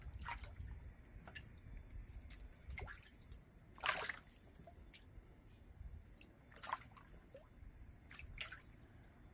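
Hungry bluegill in a 100-gallon backyard aquaponics tank splash and snap at floating tomatoes, giving scattered wet slaps and drips at close range over a quiet watery background, with a couple of sharper splashes standing out.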